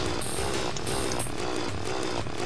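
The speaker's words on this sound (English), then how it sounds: "Weakened him with the drill." A drill grinds continuously against a snowman in Terraria, a dense, buzzing mechanical whir that stays loud and unbroken throughout, with faint pulsing in its texture.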